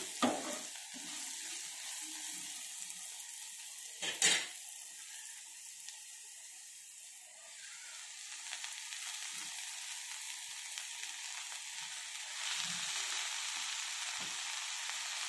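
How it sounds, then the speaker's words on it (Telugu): Fenugreek leaves frying in a pan on a medium flame: a soft, continuous sizzle with a sharp clatter of stirring near the start, rising a little louder toward the end, with no one speaking. "ఇప్పుడు ఇవి బాగా ఫ్రై అయిపోయినాయి కదా, మెంతికూర వేసేసుకున్నామండి"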